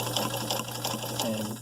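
Late-1970s Japanese Sears Kenmore 158.17540 sewing machine stitching a wide zigzag, a continuous close mechanical whir with a steady rapid needle rhythm.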